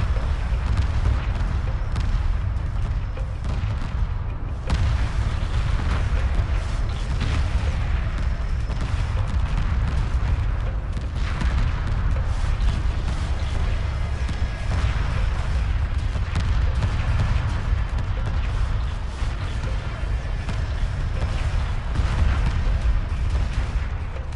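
Spaceship weapons fire and explosions in Homeworld Remastered, a continuous, fairly dense barrage of rumbling blasts and shots at moderate loudness, heard without talk.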